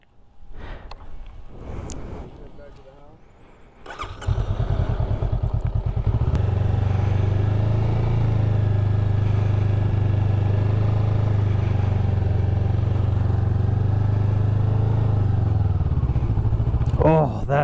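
A motorcycle rides slow U-turns on a hill. Handling noises come first, then the engine idles and runs steadily and close at low speed, with a brief voice near the start and end.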